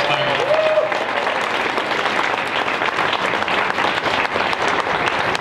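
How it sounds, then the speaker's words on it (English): Sustained audience applause at a high school spring concert finale, a dense, steady wash of many hands clapping close and loud throughout, with no talk over it. "can we just give one more round of applause for all the students out here this evening?"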